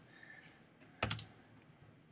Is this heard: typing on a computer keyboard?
yes